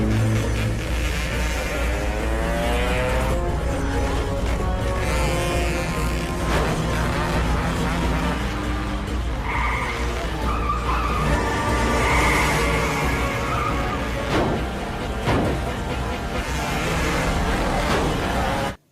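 A film car chase, with a car and a motorbike racing each other, comes through as a loud, continuous engine roar and repeated tire skids and squeals across the whole stretch, with no talk over it.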